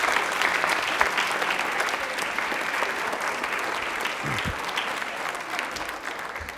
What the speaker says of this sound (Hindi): जोरदार तालियां हो जाए अर्णव के लिए प्लीज।